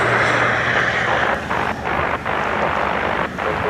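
Ryanair jet from Zakynthos at Dublin Airport, a steady broadband engine roar with wind buffeting the microphone, fairly loud and continuous with brief dips.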